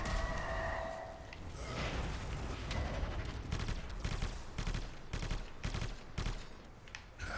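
Rapid gunfire bursts from the video game Anthem, with a dense clatter of shots around the middle and end, set over a steady game soundtrack with no speech.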